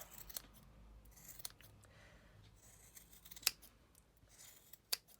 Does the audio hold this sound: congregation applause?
no